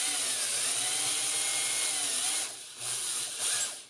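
A power drill whines loudly and continuously while drilling out a rivet in a computer case, its pitch wavering under pressure and briefly dropping off twice near the end.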